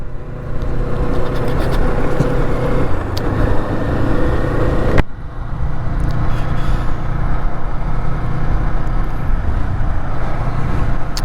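A Kawasaki Eliminator motorcycle ridden at low speed around town, its engine a steady, close, continuous drone that dips briefly once midway, with no talking.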